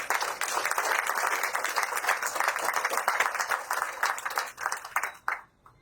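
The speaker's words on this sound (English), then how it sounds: "And I think you deserve a round of applause for that." At a Europe Day reception, the audience breaks into a round of applause, dense and fairly even for several seconds before it tapers off abruptly near the end.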